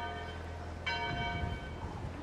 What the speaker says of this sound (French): Les cloches sonnent.